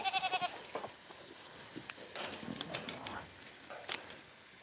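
Farm goats bleat while being fed, with a loud wavering bleat at the start and fainter scattered bleats and feeding noises after it.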